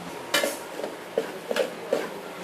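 A spoon stirring chicken with turmeric and pepper in a pot, a few distinct metallic scrapes and clinks spaced irregularly, moderately close and clear, with no talk.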